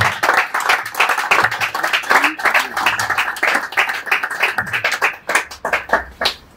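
An audience applauds to cheer the Leopards football team, a loud burst of many hands clapping in quick, uneven rhythm.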